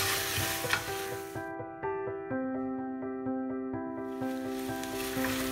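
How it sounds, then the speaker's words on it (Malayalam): Tomatoes stirred into a frying curry base for beef curry: sizzling frying noise fades out midway under sustained musical tones, then returns toward the end. "നമുക്കിതിലോട്ട് തക്കാളി ചേർക്കാം. നന്നായിട്ട് മിക്സ് ചെയ്ത് കൊടുക്കാം."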